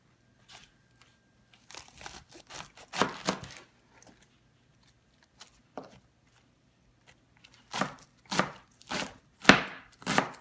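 Cabbage sliced thin with a knife on a cutting board, crisp chopping strokes in short irregular bursts, then a steady rhythmic run of close, loud cuts near the end, with no talking.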